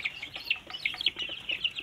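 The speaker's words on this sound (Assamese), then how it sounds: "আৰু এইফালে দেখা পাইছে এয়া চেলকিৰ পোৱালি।" Young chicks offered for sale call out in a steady stream of high, thin cheeps and peeps, close and fairly faint, with no talking.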